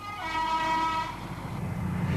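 A high-speed train on the old Great Northern Railway line races past close by, a sustained loud roar with steady tonal whine from the traction, the rumble deepening as the carriages rush through.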